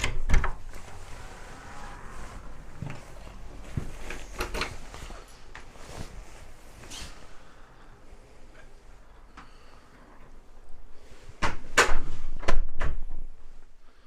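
A door to room 4B of a low-budget Blackpool hotel opens with several clicks and knocks from the handle and latch, then a louder cluster of close clunks and rattles as it swings open near the end.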